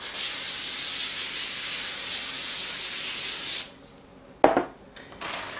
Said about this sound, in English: I'm going to spray the foil.